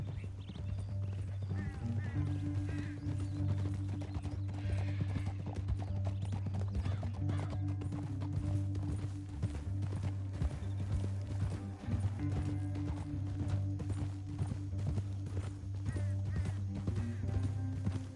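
Steady horse hooves clip-clopping through Red Dead Redemption 2, a continuous rhythmic trot under a low droning game score, with an occasional faint whinny and brief spoken voices.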